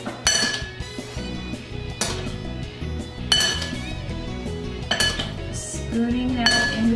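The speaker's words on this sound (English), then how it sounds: "Spooning that in between all the petals of the blossom." A metal spoon clinks sharply against a bowl several times at a steady pace, close and clear, while batter is spooned between the petals of a blossom.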